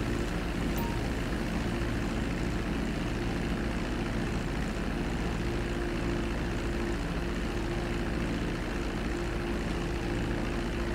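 An airplane flying low in GTA gives a constant, loud propeller and engine drone that holds steady and unbroken from start to finish, with no talk over it.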